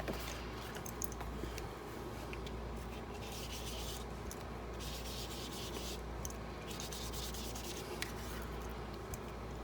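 A blending tool rubs roughly around the edges of a handmade Halloween card, a steady, continuous close scratchy brushing over a constant low hum from a window air conditioner unit in the craft room.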